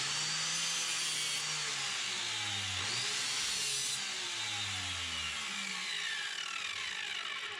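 A power saw cuts into hickory nuts, a steady broadband whine and rasp with a lower motor tone that dips as the blade bites, continuous and close.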